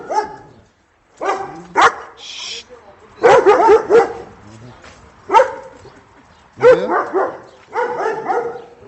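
Several dogs bark in sharp bursts nearby on a farm, with short yips between, while someone talks over them.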